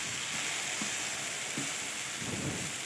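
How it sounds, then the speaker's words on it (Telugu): Sago and sesame batter sizzles as small spoonfuls drop into a hot paniyaram pan, a steady close frying hiss with a few soft plops as each portion goes in. "ఇప్పుడు ఈ పొంగ పొంగనాలు వేసేద్దాం ఈ సగ్గు బియ్యంతో పిండితో ఇలా కొంచెం కొంచెం పొంగనాల పెన్నంలో వేసుకుందాము"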